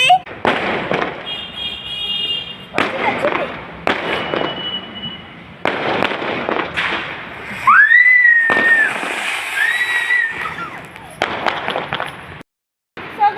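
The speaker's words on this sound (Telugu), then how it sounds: "ఇప్పుడైతే పైకి వచ్చి టపాసులు అయితే కాలుస్తున్నాము రెయిన్బో అయితే ఫస్ట్ కాలుస్తున్నాము" Rainbow firecrackers fire off on a rooftop during a Karthika Pournami celebration, a series of sharp loud bursts and crackling pops with whistling rising streaks, nearby voices talking between the shots.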